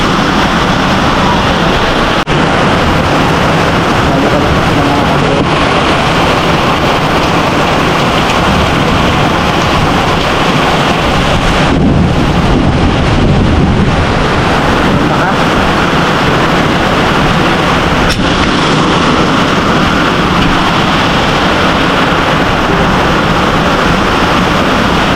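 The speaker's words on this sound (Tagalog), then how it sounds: "Lakas ng ulan oh." Heavy rain pours down in a dense, unbroken roar, loud and close, with no pauses and drumming on surfaces throughout, while a voice speaks over it.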